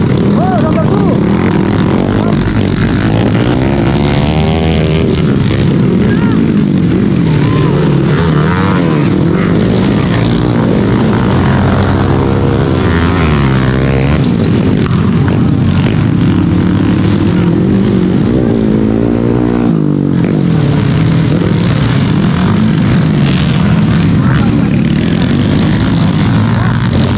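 Motorcycles race in a beginner-category flat track championship in Burauen, Leyte, their loud engines revving and whining up and down in pitch as they pass, with an announcer talking over the roar throughout.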